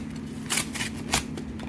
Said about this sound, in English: I will go ahead and open the Boost Mobile SIM card